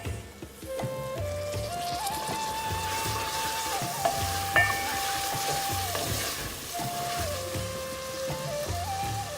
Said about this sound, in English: let those onions and tomatoes cook for about 3 minutes